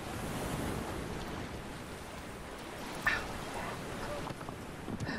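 Water in the video game Shadow of the Colossus gives a soft, steady rushing wash with faint splashes and a brief louder swell, heard at low level with no voices.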